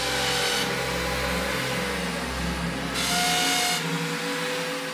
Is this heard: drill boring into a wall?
yes